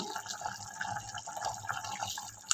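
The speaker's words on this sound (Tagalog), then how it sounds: "So, ilalagay na natin yung ating patis." Fish sauce poured into simmering chicken tinola, a steady liquid splash and trickle running continuously at moderate level for a couple of seconds with no talk.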